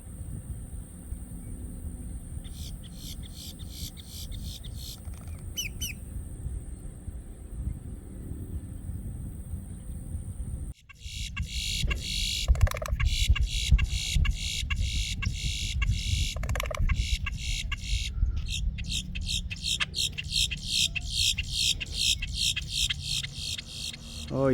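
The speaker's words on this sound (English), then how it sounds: "Grackle is singing his song." A grackle sings at a wildlife drive by Lake Apopka, with repeated bright rhythmic calls and chatter over a steady low rumble of a vehicle, continuing loudly through the second half.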